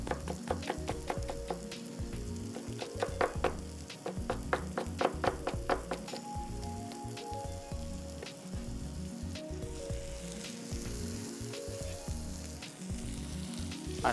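Green bell pepper sautéing in a pan gives a steady, loud sizzle and fry with no speech, broken by brisk clinks and taps of stirring through the first half.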